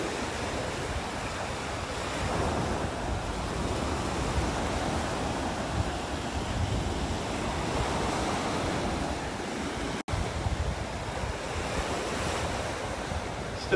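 Surf breaking continuously on North Naples beach during a red tide, a steady broad wash of waves with strong wind rumbling against the microphone, no voices.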